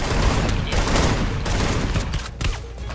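Rapid, loud automatic gunfire from the Free Fire video game rattles in dense bursts across the whole stretch, close and continuous with brief dips.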